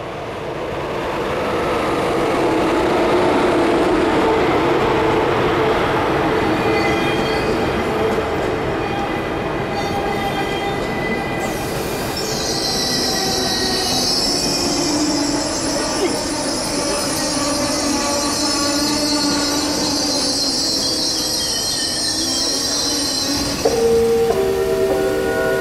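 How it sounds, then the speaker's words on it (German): A first-generation ICE high-speed train pulls into Stuttgart Hbf, bound for Munich. A loud, steady rumble of wheels and carriages fills the station, then a high, sustained brake squeal rises partway through and holds until near the end, with no talking. "Der planmäßig eingesetzte ICE-Zug der ersten Generation hält auf seiner Reise Richtung München an Gleis 15 oder 16."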